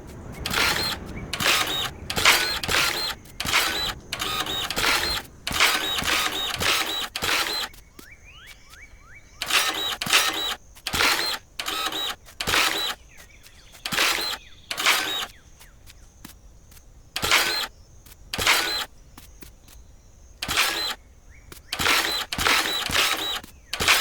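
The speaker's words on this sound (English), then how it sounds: "I'm going to try and go ham right now with the dirt printer" Mechanical machine sounds from a dirt printer in the video game Dinkum, a run of rapid clacking bursts in repeated clusters with short pauses between, fairly loud and steady with no talk.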